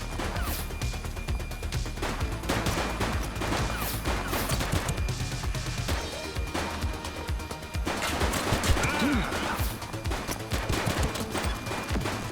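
Intense downtown police shootout in The Precinct video game, with dense bursts of rapid gunfire and sharp shots cracking continuously, punctuated by crashes and impacts in a loud, chaotic exchange.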